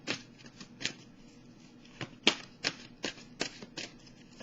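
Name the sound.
shuffling oracle cards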